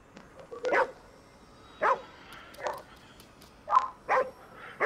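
A dog barks in the video game Ghostwire: Tokyo, giving several short, sharp barks and yips spaced unevenly over a few seconds. The barks are fairly close and stand alone, with no talk over them.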